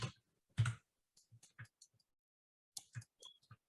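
Keyboard shortcut presses on a computer during a digital sculpting session: a handful of sharp, separate clicks in two short clusters, close and fairly quiet, with silence between them.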